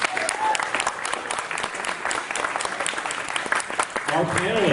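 Audience applause for a panelist at a climate change panel discussion, a sustained dense wash of clapping filling the room, with a voice rising near the end.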